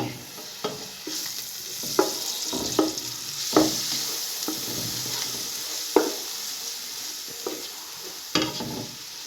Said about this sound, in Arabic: حطينا زيت على زبده، وهنقلب بقى ايه لغايه ما البصله تصفر